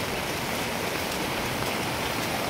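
Floodwater from a swollen stream pours into a pond in a steady, dense rushing roar that stays even and loud throughout, with no voices.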